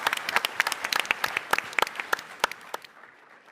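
Applause at a startup pitch competition, a modest audience clapping briskly, near and clear, then thinning out and fading over about three seconds.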